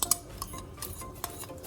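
Spoon scraping and clinking against a pot while stirring a pudding mixture of egg yolk, butter and condensed milk into boiling water, several light irregular taps over a faint background.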